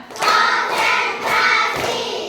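A group of schoolchildren in a classroom claps together in unison, several loud, dense bursts of hand claps following a counted rhythm, with no talking over them.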